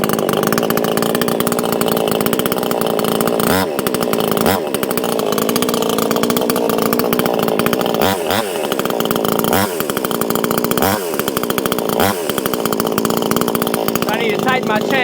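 A Proyama 68cc gas chainsaw runs loudly and close, its engine idling with a harsh, steady rattle broken by several short revs, continuing without pause for about fifteen seconds.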